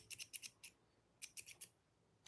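Large scissors cutting leather while making a bag, two bursts of four crisp snipping clicks each, close and quiet with a pause between them.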